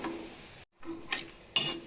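Jhuri, thin gram flour strands, frying in hot oil and being lifted out with a strainer, a soft close sizzle broken by a brief silence and sharper bursts of crackle.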